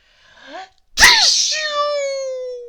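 Mr Sneeze, a cartoon character, sneezes after eating a pepper sandwich: a rising, wavering wind-up breath, a short pause, then one loud explosive sneeze trailing into a long sustained vocal tone, voiced as an imitation.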